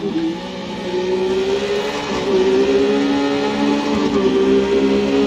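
Triumph Street Triple motorcycle engine in a racing video game, a steady loud high-pitched whine that holds its pitch with small rises and dips through sustained riding on track.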